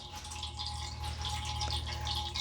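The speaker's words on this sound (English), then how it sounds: "Can you hear the water?" Running water, a continuous bright rushing flow at moderate loudness, steady throughout with no voices.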